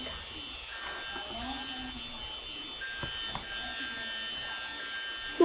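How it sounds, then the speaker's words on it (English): A school fire alarm in a video game sounds as a faint, steady electronic tone that holds unbroken, with a few soft clicks and knocks scattered through it. "Well, there goes the fire alarm."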